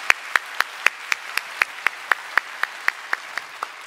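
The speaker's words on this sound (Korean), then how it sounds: "우리 감사 영광의 박수 올려드리겠습니다." A church congregation at a Christmas service claps together in a steady, even rhythm, with about four sharp, evenly spaced claps per second that fill the hall at a moderate level and carry no voices.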